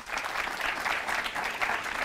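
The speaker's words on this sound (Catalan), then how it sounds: "Un fort aplaudiment per elles" Studio audience applause greets three schoolgirl contestants on a Catalan TV quiz show, a brief, lively burst of dense clapping that stays fairly even from start to finish.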